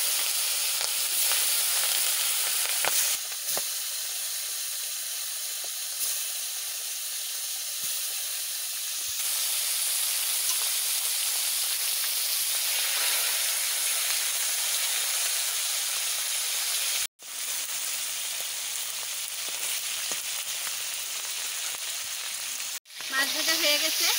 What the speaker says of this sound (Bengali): তেল ভয়ঙ্কর গরম হয়ে গেছে, মাছ বসাই দিচ্ছি